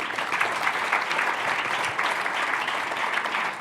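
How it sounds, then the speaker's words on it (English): Audience applause for a speaker named Tom at a talk, a continuous wash of clapping from a sizeable room holding steady for several seconds. "round of applause for Tom."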